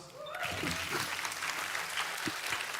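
A church audience applauds the pianist in a short, steady burst of dense clapping, with faint voices and cheers mixed into the crowd noise.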